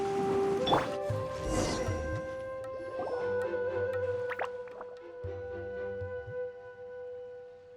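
Water droplets drip and plop softly in the fantasy game Genshin Impact, a few scattered liquid drops over sustained, tonal game music.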